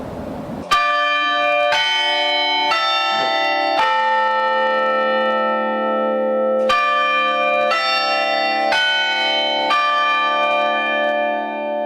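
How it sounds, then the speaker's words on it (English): Penn State Behrend's carillon bells ring out in a series of clear, resonant strikes, pausing with a long sustained hum before several more chimes follow; loud and close. "the sounds of these bells will remain the same"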